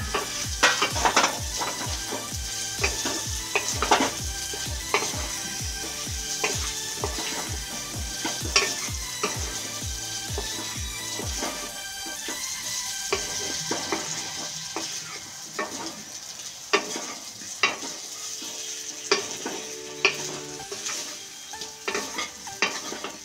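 Spice masala and fried potatoes sizzle steadily in a pan while being sautéed for chhena kofta, with a spoon scraping in regular, close strokes that later thin out, and no talking.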